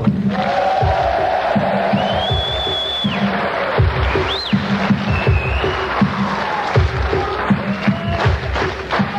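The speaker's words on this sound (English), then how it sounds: "Nice round of applause for Arthur." A concert audience at a 1980 live show in Aylesbury cheers and shouts amid loud rhythmic thumps and whistles, a dense roar of crowd noise filling the hall throughout.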